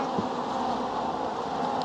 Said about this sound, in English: There's quite a large amount of bees.